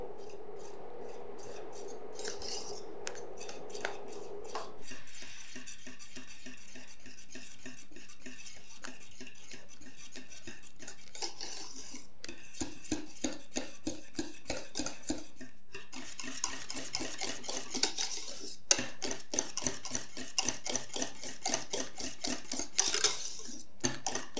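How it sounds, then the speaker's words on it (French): Raspberry cream with butter stirred in a bowl, producing a steady rapid scraping and clinking of a utensil that grows busier and louder over time, close up and without speech. "Donc vous remuez jusqu'à ce que tout se fond."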